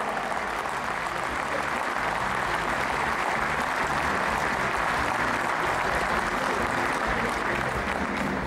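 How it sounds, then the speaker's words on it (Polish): Loud, sustained applause from an audience at the opening ceremony of an ice arena in Tomaszów Mazowiecki, dense steady clapping filling the whole stretch without pause. "Wielkie brawa!"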